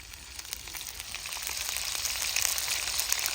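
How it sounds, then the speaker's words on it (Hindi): Fish frying in oil in a village kitchen, a close, continuous crackling sizzle that grows slightly louder over a few seconds. "मैंने कहा इसको ना फ्राई कर लेते हैं क्योंकि फ्राई की हुई मछली का टेस्ट जो है वो बहुत ही मज़े का होता है।"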